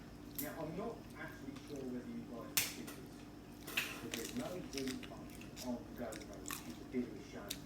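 Someone eats spicy Maryland crab with close, wet chewing, squishing and biting sounds and occasional crunches, mixed with soft background talk.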